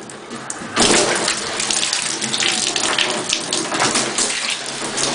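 Water gushes from a newly installed pull-out sprayer faucet with the aerator removed, starting with a sudden burst after a brief quiet moment and then running loud and steady with a splashing hiss.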